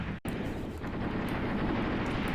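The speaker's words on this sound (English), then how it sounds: "Looks like our guys actually just fired a missile, anti-personnel missile there at the enemy." Missile launch in Graviteam Tactics: Mius Front, an anti-personnel missile fired at enemy positions, heard as a sharp cutoff followed by a sustained, loud, broadband roar that fills the whole stretch.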